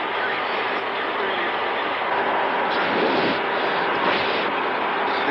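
An airplane carrying evacuated children on the 1975 Operation Babylift flight toward Chicago fills the cabin with a steady, loud, broadband engine roar that never lets up.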